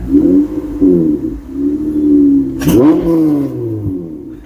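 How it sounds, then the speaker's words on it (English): An Acura TL SH-AWD fitted with a custom 4-inch cold air intake revs up close and loud, a deep droning engine note that rises, dips, then climbs sharply in one strong blip before settling back to idle. "give it a little rev here if you can hear that intake sucking up"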